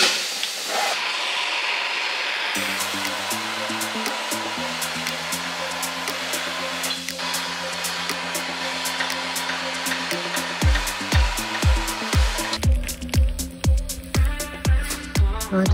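A gas burner roars steadily with a hissing flame while heating a seized part during restoration of an Opel Kadett GSI, accompanied by loud rhythmic tonal music throughout and sharp impacts near the end.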